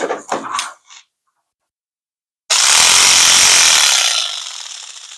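An electric saw fitted with a new blade cuts holes for a fifth-wheel hitch. A few quick knocks come first, then a pause, then a loud, close burst of harsh cutting that fades toward the end.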